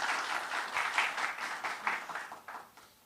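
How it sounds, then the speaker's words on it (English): An audience at Vice President Jagdeep Dhankhar's release of Dr. Karan Singh's book breaks into applause, a moderately quiet run of clapping with a pulsing rhythm that gradually eases. "I think he deserves a round of applause."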